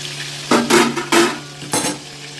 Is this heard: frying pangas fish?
yes